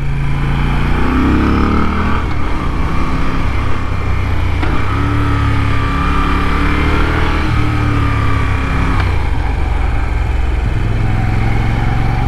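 A 2021 Moto Guzzi V7 Stone 850 motorcycle out on a road ride, its engine droning steadily and loudly throughout with shifting revs and no speech over it.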